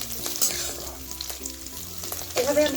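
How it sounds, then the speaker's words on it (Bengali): Snails (googli) frying in hot oil, a dense continuous crackling sizzle with light stirring taps, close up and steady, rising slightly toward the end with a brief clatter. "গুগলিগুলোকে 30 সেকেন্ডের মতো ভেজে নিয়েছি"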